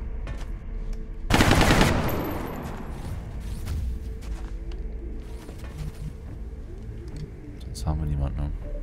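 Gunfire in XCOM Long War (Enemy Within): a loud automatic burst near the start that decays into echoing rattles, then quieter battlefield noise and a few later shots, with someone talking over it.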